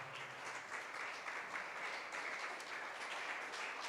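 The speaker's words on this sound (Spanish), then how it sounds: "Denle una ofrenda de palmas al Señor." A church congregation claps steadily during a Sunday service, a soft, continuous wash of applause with no pauses.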